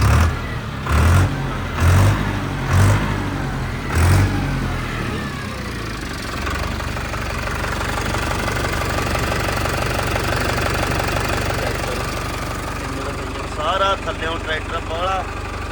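A Farmtrac tractor with a non-CRDi engine cranks over in a few heavy, spaced chugs, then settles into a steady, rumbling diesel idle close by, with voices talking over it.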